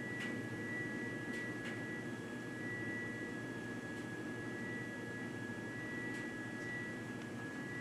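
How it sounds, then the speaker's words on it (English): A steady, thin high-pitched electronic tone from an outdoor pool heater at a hotel rings continuously beneath a low, constant background rumble, with a few faint clicks. "we're sorry about the high-pitched beeping noise"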